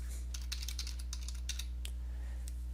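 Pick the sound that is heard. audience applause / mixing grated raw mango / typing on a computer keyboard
typing on a computer keyboard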